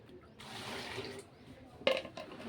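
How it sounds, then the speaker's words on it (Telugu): About two litres of water poured into a garden planting container, a brief splashing rush lasting under a second, then a single sharp clunk and quieter handling noises close by. "ఇలా వాటర్ పోసుకుని"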